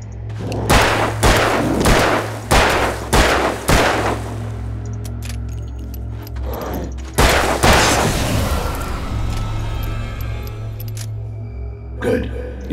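Loud gunfire from the video game Alan Wake played on PC: a rapid run of five or six heavy shots, a pause with scattered clicks, then another blast and fading rumble, with a low steady hum throughout and voices in the scene.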